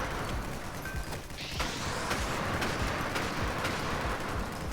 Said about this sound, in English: there's still, like, multiple explosions going off